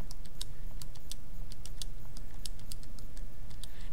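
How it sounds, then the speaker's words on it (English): Quick, irregular keystrokes on a computer keyboard as numbers are entered into data fields, crisp clicks close by over a steady low background hum, with no talking. "Be careful when you're typing in here."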